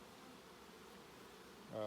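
A soft, steady buzzing hum of many honey bees close by in an open beehive, with a louder burst of buzzing near the end.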